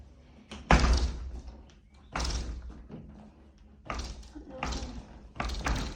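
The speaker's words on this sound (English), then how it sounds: "This door does not really want to catch super well." A house door is pushed shut several times with dull thuds and rattling knocks as its latch fails to catch, with someone talking between and over the impacts.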